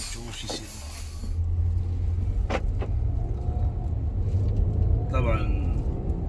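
A turbocharged BMW X car with a suspected vacuum leak drives on a test drive, its low engine rumble steady and close, with a person talking over it at the start and brief passing sounds later.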